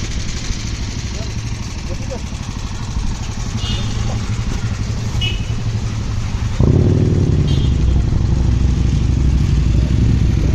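A group of about ten motorcycles on a road during an Indian Navy ride across Tamil Nadu, engines rumbling and revving steadily nearby, the sound swelling louder partway through, with a voice talking over it.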